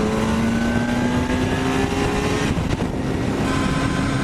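A Kawasaki ZX-10R with an undertail exhaust runs steadily, its engine note droning loud and close with a sustained harmonic hum that shifts slightly in pitch throughout.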